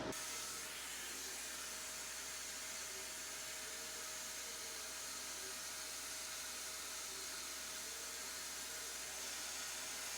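A K40 CO2 laser cuts a small circle at 60% power and 3 mm per second while its air assist blows a constant, even hiss, faint and unbroken throughout.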